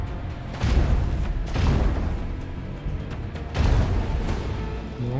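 Macro cannons of a warship fire in Warhammer 40k: Rogue Trader, a few heavy booming blasts with rumbling tails spaced a second or two apart, loud and close.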